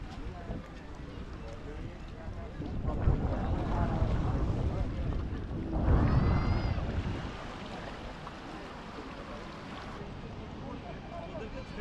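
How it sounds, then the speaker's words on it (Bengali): Trawler boats arriving at a crowded seashore in Digha, with a low rumbling engine drone, wind buffeting and a swell of louder engine noise midway, while people talk nearby. "ট্রলারগুলো দেখুন আসছে, এই যে সামনে এরকম পর পর আসছে"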